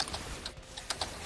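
Someone typing on a computer keyboard during a game, a brief run of light, irregular key clicks close by, with no talking.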